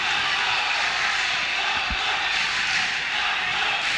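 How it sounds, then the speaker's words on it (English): At a boxing match, the crowd chants for a fighter as a steady, dense roar fills the venue without letup, with a single dull thud partway through. "Crowd again chanting for Mahmut ElRajab."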